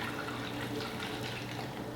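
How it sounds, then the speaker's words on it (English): Water pours steadily into a blender holding frozen banana, a continuous, even wash of liquid noise, close by, ending with a brief louder clatter. "I'll pour a little water in there."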